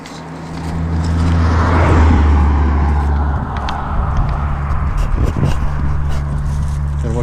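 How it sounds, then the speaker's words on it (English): Cars pass on a highway next to the Thredbo River, rising to a loud close whoosh and then falling back into a steady roar of traffic. "Gotta watch these cars on this highway."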